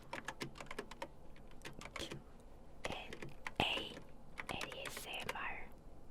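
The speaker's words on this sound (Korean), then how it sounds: "ASMR 타자 소리를 들려드릴게요." Close, quiet typing on a computer keyboard, irregular bursts of clicking keys with a few louder clacks and faint whispery sounds between.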